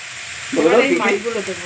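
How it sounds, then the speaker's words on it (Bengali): Onion and tomato sizzle loudly in a hot pan, starting suddenly after a brief quiet moment and crackling steadily close up. "একটু ভাজা ভাজা হোক পেঁয়াজ টমেটো"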